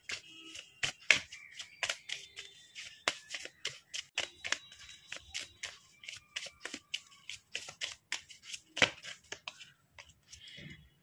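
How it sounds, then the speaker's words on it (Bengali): Tarot cards are drawn and handled from a deck. The result is a long run of quick, close, dry card slaps, snaps and rustles in an irregular rhythm, with no talking over them. "চলুন আর একটা ডেক থেকে কিছু কার্ড বার করে নিই।"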